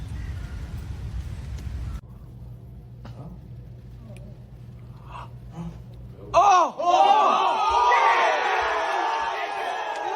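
A crowd bursts into loud cheering and whooping partway through, after a quieter stretch, and keeps roaring to the end.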